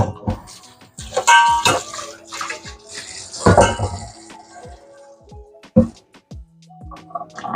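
Tap water runs into a pot being rinsed out at a kitchen sink while cooking Ital stew, with splashing, clanks and dings of the pot, and brief bits of talk nearby.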